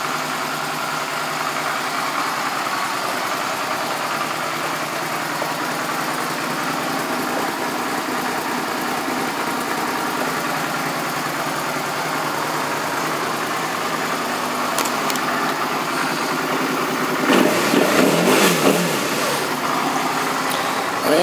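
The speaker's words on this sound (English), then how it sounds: "Fires right up and runs well, even with high miles on it" A high-mileage 2004 Suzuki DL650 V-Strom motorcycle engine idles steadily nearby with a low, even rumble, then gets a couple of brief revs near the end, with no talking.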